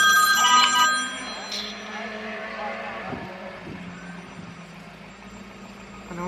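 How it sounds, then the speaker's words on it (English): A telephone rings with several bright, repeating electronic tones, strongest in the first second, then fades under a steady low background hum, with faint voices in the room. "Steven, answer your phone"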